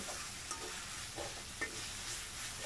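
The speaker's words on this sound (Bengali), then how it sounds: "আমি সবগুলো মশলা একসাথে মিশিয়ে নিচ্ছি যাতে সবগুলো একভাবে কষে যায়।" Spices frying with liver in a pan, a soft steady sizzle with a few faint stirring scrapes, quiet and without speech.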